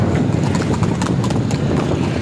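Horses clip-clop along a street during a Rabi ul Awal rally, a dense, loud, continuous clatter of hooves close by amid crowd noise.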